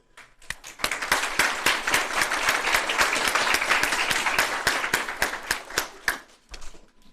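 Graduation ceremony audience breaks into applause, a few sharp individual claps swelling quickly into a full, sustained wash of clapping that thins out near the end, heard alone without speech.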